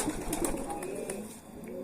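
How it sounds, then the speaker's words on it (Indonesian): A young pigeon squab perched on a man's head gives soft, faint cooing and murmuring calls, quiet and close, with some low background noise. "Ini ada merpati piyik di kepala saya"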